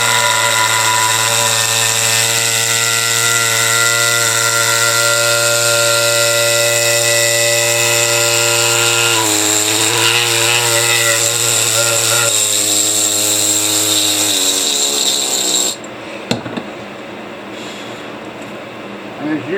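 An angle grinder whines loudly and continuously, its pitch dipping as it bites into a rock slab, grinding it thinner, then cuts off near the end, leaving quieter scraping.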